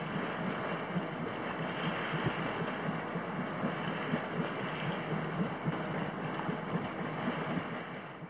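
The sailboat Jade Akka motors across open sea in light wind in Tonga, a steady close rush of water and wind noise with no breaks.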